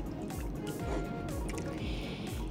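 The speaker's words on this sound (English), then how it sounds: "you can add in 3 cups of water" Water poured into a pan of simmering Filipino beef steak in soy-based sauce, a continuous splashing, dripping pour with bubbling liquid, close and steady throughout.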